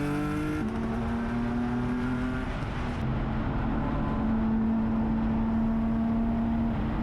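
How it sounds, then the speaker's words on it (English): Onboard a Palomar Racing E36 race car in an endurance race at Willow Springs, the engine drones at high revs with steady tone and gear changes while other race cars roar past nearby. "The E1 car goes by an 8 and Morewood overcooks 9 and goes 2 off"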